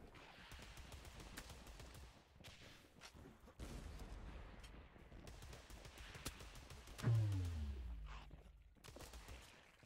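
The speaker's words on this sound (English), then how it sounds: "Shooting from far off." Distant gunfire in the first-person shooter Alien Removal Division, scattered bursts and single shots popping faintly over a low rumbling game backdrop, with one louder swelling tone near the end.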